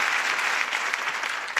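Dense, steady applause from a television studio audience on a Turkish music show, loud and close, with a few sharper claps near the end.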